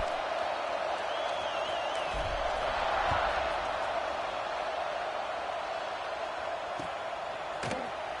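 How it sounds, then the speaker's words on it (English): Steady, dense crowd roar fills a football stadium, loud and continuous, with a few sharp thumps and short cheers rising out of the wash of noise. "this crowd is buzzing after that last score"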